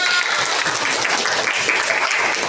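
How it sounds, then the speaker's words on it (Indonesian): A burst of steady applause from a classroom full of primary school pupils, close and fairly loud, clapping evenly throughout. "Tepuk tangan."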